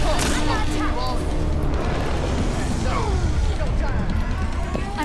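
Overwatch match gunfire and explosions crowd together in a loud, dense barrage of bursts and booms, continuous throughout with no quiet gaps.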